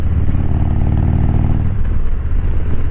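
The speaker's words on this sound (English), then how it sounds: "Bike sounds good." Motorcycle fitted with an aftermarket exhaust idling and revving steadily nearby, a continuous deep throbbing engine note with clattering mechanical detail, not especially loud, with no talking.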